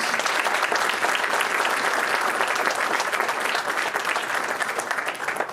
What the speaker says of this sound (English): Let's give our inductees a round of applause.